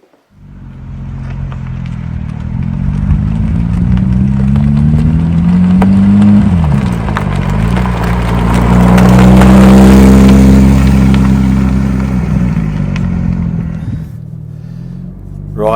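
A Porsche 992 GT3 Touring sports car engine runs loud and close, idling then rising through several smooth revs and falling back, its harmonic drone sweeping up and down before settling.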